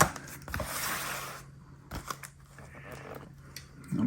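A cardboard package holding a Tesla CCS adapter being cut open by hand, with short scratchy slicing bursts separated by quiet pauses and a sharper rustle at the very end.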